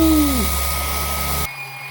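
GTM OS125/280 eccentric orbital sander on first speed with a 320-grit disc working stainless steel: a steady, close whirring hum that cuts off abruptly near the end.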